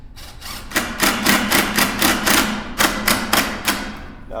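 A power drill drives a screw into a wooden chair, a run of rapid loud bursts that pulse in an even rhythm and then stop, close up with no talking.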